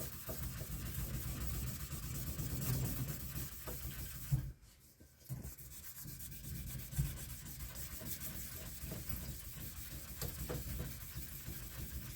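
Steady abrasive rubbing of a sanding block worked over a firearm's metal surface, a continuous close scraping texture with one brief pause midway before the strokes resume.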